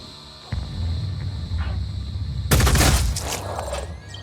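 Gunfire in the turn-based tactics game Phoenix Point: a loud, dense burst of shots cracks out at once over a low rumbling background, then rings and fades.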